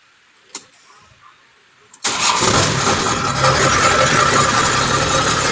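A Kubota harvester engine cranks briefly after faint clicks, then catches and settles into a loud, steady running roar that holds to the end, heard close up.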